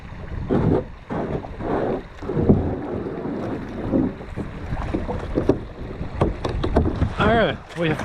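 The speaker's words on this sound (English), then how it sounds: "Pretty much we'll just drag the boats up the little rapid here." Kayaks are dragged up a small rapid on Big Piney Creek, with scraping and rushing water under steady wind buffeting on the mic and a brief voice near the end.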